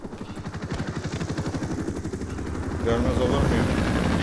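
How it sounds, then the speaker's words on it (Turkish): Russian helicopter from a sniper video game: a close, steady rotor chop with rapid rhythmic thumping that swells into a louder, denser drone, under a man's speech. "Tam Rus helikopteri. Çok bir Rus helikopteri."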